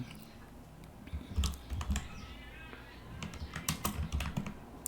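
Computer keyboard typing in quick irregular bursts of key clicks, close and fairly quiet, while a programming lesson is written out, with no talk over it.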